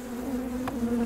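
Honey bees buzz steadily and close by as they are shaken off a hive frame during a Bailey comb change, one brief sharper burst rising above the constant drone.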